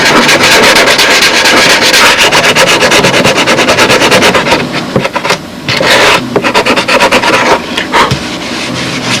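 A carbide sanding block is rubbed quickly back and forth over a repair on a crashed A-26 Tigercat model aircraft, giving loud, close, rapid rasping strokes that slow and break up into separate scrapes near the end.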